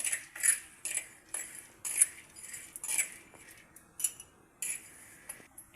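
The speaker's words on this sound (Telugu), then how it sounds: "ఈ పంప్కిన్ సీడ్స్ వేపుతున్నాము" Pumpkin seeds being dry-roasted for laddus are stirred in a pan with a metal spoon, giving quiet, rhythmic scrapes and light clinks roughly twice a second.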